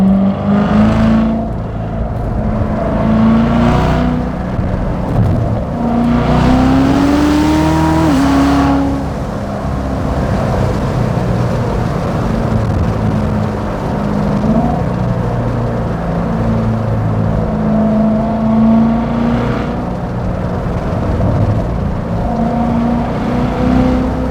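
A 2019 Chevrolet Corvette C7 Z06 with a 650 hp engine drives and accelerates, its loud steady engine drone rising in pitch through several revving pulls, close up from inside the car, with no talking.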